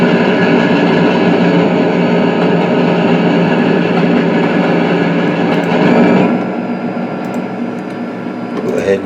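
An Illinois Central train running on the main line in the Trainz Simulator 2012 game, a loud, steady engine drone with humming overtones that eases slightly after a few seconds.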